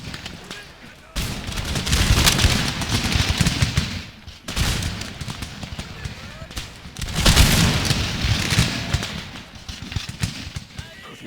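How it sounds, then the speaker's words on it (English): Musket volleys from massed line infantry in the Empire Total War battle game, crackling bursts of rolling fire in several loud waves with brief lulls, a voice speaking faintly underneath. "Come on, gentlemen, begin firing now."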